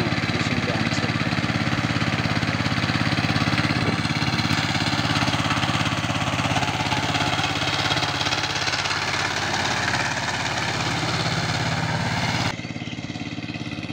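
Saifing five-star 16 hp power tiller engine running steadily with a loud, close, chugging diesel drone that barely varies, cutting down in level near the end.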